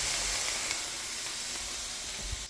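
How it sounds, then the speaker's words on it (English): Steady broad hiss of onions sizzling in a hot pan, continuous and fairly loud with no voices. "The onions are cooking. See? Hear the sizzle?"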